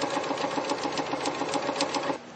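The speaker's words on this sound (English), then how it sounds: "we're going to sew these 2 strips together using a 1/4 inch. And we'll sew all the way down." A sewing machine stitches two quilt strips together along a quarter-inch seam, giving a steady, close mechanical whir with a rapid rhythmic chatter that runs unbroken for about two seconds and then stops.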